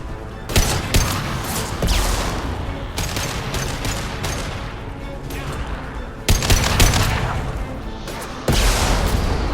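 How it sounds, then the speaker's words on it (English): Loud rapid bursts of gunfire crackle and boom in a Mass Effect 2 firefight, with several heavy concussive impacts punctuating continuous shooting close up, no clear talking. "Firing concussive shot."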